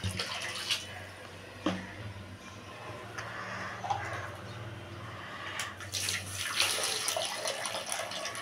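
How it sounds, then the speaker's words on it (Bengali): Water runs and splashes into a pan of dal and eggplant while cooking, a close, uneven pouring sound in a few bursts with scattered clinks. "একটু জল দিয়ে দেবো, বেশি দেবো না জল"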